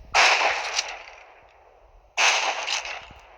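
Two loud gunshot sound effects ring out about two seconds apart. Each is a sharp crack with a trailing decay, heard alone.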